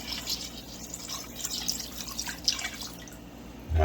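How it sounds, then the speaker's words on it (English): Chicken broth pours into a cooking pot as a soft, continuous splashing trickle, close and fairly quiet, ending with a low thump. "Then I'm going to pour in 4 cups of chicken broth."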